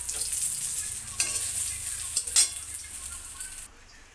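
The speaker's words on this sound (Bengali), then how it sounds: "দিয়ে দিচ্ছি কালো জিরে ফোড়ন" Nigella seeds sizzle in hot oil as a tempering for a light fish curry, a bright steady crackle with a few clinks of a stirring utensil against the pan before the sizzle cuts off abruptly near the end.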